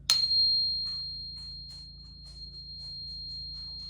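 A single piercing 4,000 Hz tuning fork tone rings out after a sharp strike, sustaining steadily and slowly fading, with faint low hum beneath.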